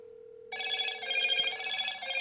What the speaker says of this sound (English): Now, when someone is calling you, it's going to look like this.